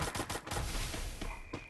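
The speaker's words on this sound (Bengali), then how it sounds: "আগে গুলি ছাড়ছি" Bursts of gunfire in a PUBG or Free Fire video game, a quick rattle of several shots up front followed by scattered, fainter pops against steady background game noise.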